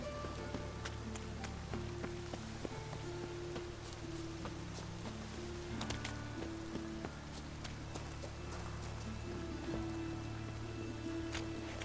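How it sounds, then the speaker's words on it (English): Rain falls in The Witcher 3, a soft and steady patter with faint drops and a low background hum, quiet and continuous with no voices. "It just rains."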